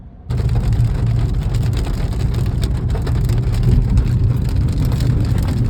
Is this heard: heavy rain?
yes